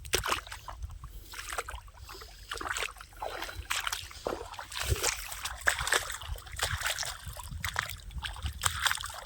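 Irrigation water flows along an earthen field channel, with irregular splashing and sloshing, some nearby movement through the water, and faint crackling detail throughout, fairly quiet and close.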